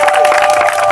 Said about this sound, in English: I would like us to give her a rousing round of applause.